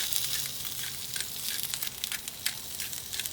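Carne asada sizzling on a grill, a steady close hiss of frying meat with sharp crackles and spits popping throughout, heard alone with no voices.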